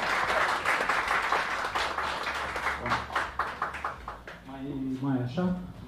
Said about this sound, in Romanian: îți dau microfonul și o rândă de aplauze pentru